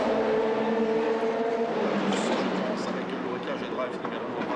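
Race car passing at speed during the 4 Hours of Spa-Francorchamps endurance race, a steady loud engine roar that shifts pitch midway as it goes by, with commentary running over it.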